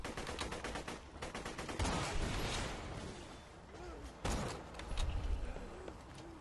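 Gunfire in the video game Borderlands 2 comes in a quick run of rapid shots, then heavier single blasts later, set among other game sound effects.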